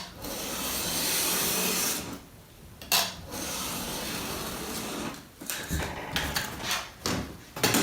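A knife scores cardboard along a ruler in several light strokes, each a dry scraping rasp with short pauses and small knocks between passes, heard close up with no talking.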